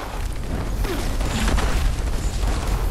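Dense, roaring explosions in the video game Fallout 76, a continuous loud wash of booms and bursts with no clear gaps between blasts.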